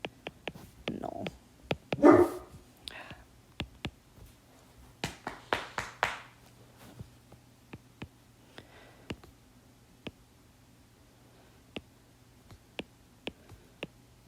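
A pet dog indoors gives a few short yips and barks in scattered bursts near the start and middle, followed by sparse faint clicks and taps against a quiet hum.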